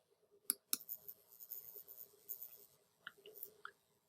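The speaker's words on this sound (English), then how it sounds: "You click on it, and then you click on Join Session." Computer mouse clicks, a few sharp isolated taps with quiet gaps between them, close and fairly faint against a near-silent background.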